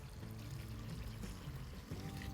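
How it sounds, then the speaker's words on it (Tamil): Water pours steadily into a pot of drumstick leaves rasam, a close, continuous gushing splash with no voices over it. "1 லிட்டர் தண்ணி ஊற்றிட்டு நல்லா மிக்ஸ் பண்ணி விடுங்க."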